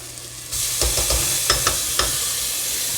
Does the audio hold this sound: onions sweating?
yes